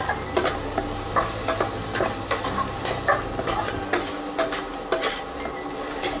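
Carrot, beans and green chilies stir-fry in a pan, with a loud, close sizzle and rapid rhythmic scraping and clinking of a utensil against the pan from start to finish.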